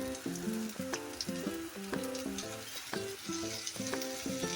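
Finely chopped tomato sizzles steadily in a hot frying pan of masala for a dried-prawn (sode) dish, with repeated stirring scrapes and clinks of a spoon throughout, close and fairly loud.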